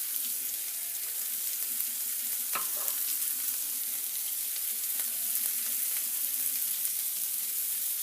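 Broccoli fries in a pan with a steady, dense sizzle throughout, broken by a few faint clinks and stirring scrapes.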